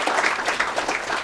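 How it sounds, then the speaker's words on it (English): Audience clapping for distinguished guests at a panel event on AI and the global supply chain, a steady dense patter of many hands throughout the short stretch with no voices on top. "I want to ask all of us to give a very warm round of applause one more time."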